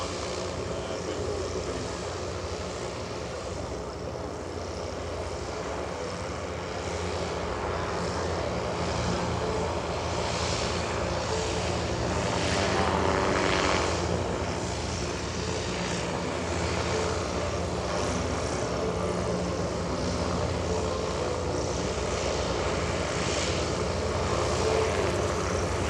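A Goodyear airship at EAA AirVenture drones with a steady propeller-engine hum during a vertical landing, swelling slightly louder midway and holding a continuous airy rumble throughout.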